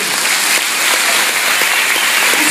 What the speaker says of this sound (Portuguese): Aplauda essa bênção de Deus que está do seu lado.